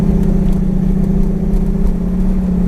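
A Chevrolet Camaro with a 355 engine gets a little gas, giving a loud, steady low rumble with a strong bass tone that holds even and close the whole time.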